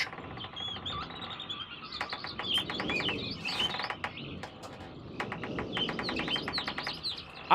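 Birds chirp in the realMyst video game, with loud, bright, rapid tweets and trills repeating in clusters over a soft ambient background, steady throughout with no talk.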